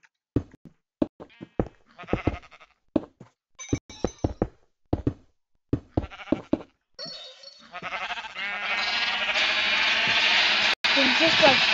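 Sheep in the Minecraft video game bleat in a quick string of short, close cries over the first several seconds, then a steady rushing wash of water takes over and drowns everything out.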